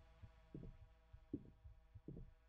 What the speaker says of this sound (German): Ich habe hier einen Herzschlag.